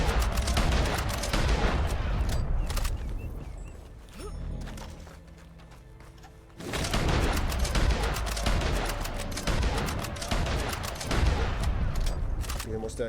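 Rapid gunfire from rifles in the Western video game Red Dead Online, dense and loud, with shots cracking in quick succession, easing briefly in the middle before resuming heavily.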